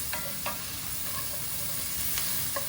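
A wooden or metal utensil stirs food for beef stroganoff in a pan over medium-low heat, giving a few soft, scattered scrapes over a low, steady sizzle.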